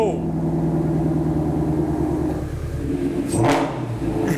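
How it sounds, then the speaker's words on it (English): A wrecked, mouse-infested Ford Shelby GT350 engine idles with a loud, steady throbbing rumble, then briefly rises in a quick rev near the end, heard up close. "I want to start it one more time,"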